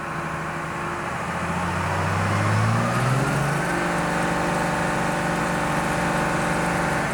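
A 1998 Dodge 2500 truck runs on a hub dyno, its engine revving up from a steady drone to a higher, louder pitch, then holding a strong sustained roar as the load run continues, close and unbroken.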